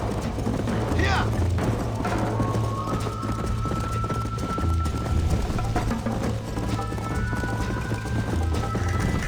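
Horse hooves clip-clop in a steady galloping rhythm in the video game Red Dead Redemption, with a whinny and engine-like tones layered over continuous game sound, while a person talks over it.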